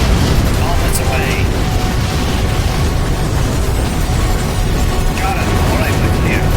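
Bomblets burst after an aerial bombing pass, making a dense, continuous roar of blasts and rumbling that fills the whole clip, with faint high tones flickering through.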